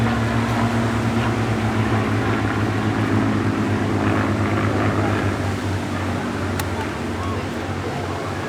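A Bristol Blenheim light bomber flies past at a seaside airshow, producing a steady, loud propeller-engine drone that holds throughout.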